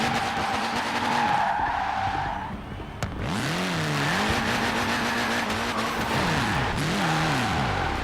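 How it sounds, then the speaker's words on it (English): A car in the racing game Forza Horizon 4 spins wheelie donuts, its engine wailing in looping rising and falling sweeps while the tires skid and squeal loudly and continuously throughout. "this thing will sit there and do those same circle wheelie donut things that my CRX was doing"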